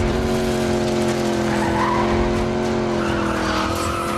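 Tires skid and squeal as cars in a video game car chase slide at speed, with steady engine whine droning loudly and continuously underneath.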